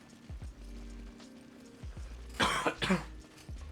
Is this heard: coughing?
yes